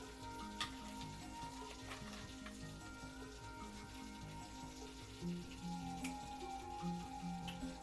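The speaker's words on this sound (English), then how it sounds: "you listen to the sizzles" Brussels sprouts frying in a pan give a steady, faint sizzle with soft crackles throughout, and no one speaks over it.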